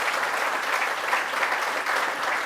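Steady, dense applause from an audience at a manufacturing facility celebration honouring Rob Simpson, a continuous wash of clapping hands that holds at an even level throughout.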